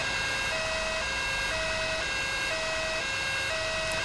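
An ambulance siren wails from an in-game emergency vehicle in Grand Theft Auto V, a steady repeating two-tone cycle heard faintly at a distance beneath low traffic and engine rumble.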